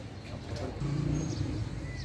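Soft, low coos of Teddy pigeons murmur close by, a few rounded throaty calls blending together amid faint background noise.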